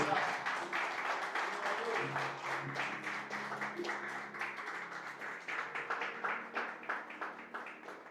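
A church congregation applauds, sustained rhythmic clapping that pulses steadily throughout, with a voice speaking over it.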